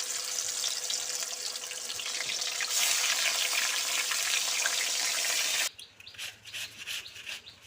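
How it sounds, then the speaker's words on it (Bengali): Spiced fish frying in hot oil in a wok in a Sundarban village kitchen. A loud, dense, close sizzle runs steadily for about six seconds, then cuts off to quieter, intermittent scraping noises, with no talk. "এবার দিয়ে দেবো এই যে কড়াতে তেলগুলো গরম হয়ে গেছে"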